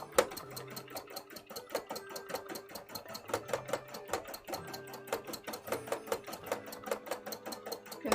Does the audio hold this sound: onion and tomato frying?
no